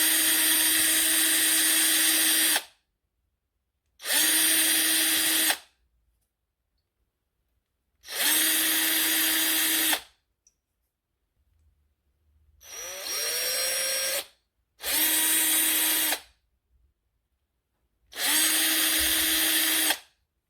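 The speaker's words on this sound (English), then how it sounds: "Drill the eye sockets." A power drill boring eye sockets into squid lures, running in six separate bursts of two to three seconds each with silent gaps between, close and steady, one burst shifting pitch as the bit bites.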